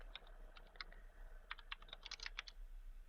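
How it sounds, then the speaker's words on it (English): Keys tapped on a computer keyboard in irregular bursts of quick clicks with short pauses, soft and close over a low steady hum. "typing on the computer keyboard, and the input is mirrored on the Android device"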